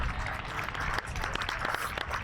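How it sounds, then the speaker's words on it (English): Supporters at a Spennymoor Town versus King's Lynn Town non-league football match applaud steadily from the stands, a dense, even patter of clapping that holds for a couple of seconds. "To the applause of the most faithful"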